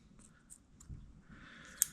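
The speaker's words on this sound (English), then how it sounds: "you're just going to cut that off with the scissors right off the side" Scissors snipping marabou feathers for a fishing jig, a few faint close clicks ending in a sharper cut.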